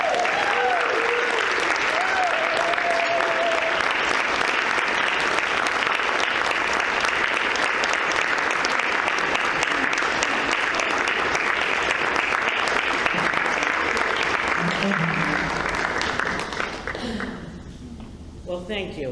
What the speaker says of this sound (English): Please join us in applauding Maureen Heffernan with this year's Champion Award.